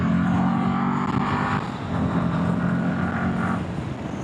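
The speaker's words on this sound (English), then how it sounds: "Oh, bad luck. Car coming." A car passes on the road, heard from inside a 2026 Enfield Mana Black driving at speed, its swelling whoosh rising over the steady engine and road drone before fading.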